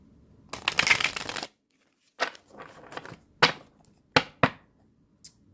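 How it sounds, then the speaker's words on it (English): Tarot cards are shuffled close up, first in a long riffling burst, then in several short, crisp slaps and flutters separated by brief pauses. "let's get these last shuffles in"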